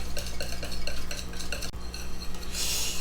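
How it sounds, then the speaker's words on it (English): A whisk beating homemade honey mustard sauce in a bowl, quick rhythmic clinking and swishing strokes close by, ending in a brief brighter scrape. "mix it on up. Whisk it up real good."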